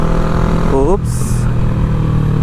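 Close, loud motorcycle engine holding a steady drone while riding in third gear at about 32, with someone speaking briefly over it.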